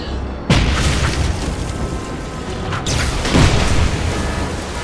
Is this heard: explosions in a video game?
yes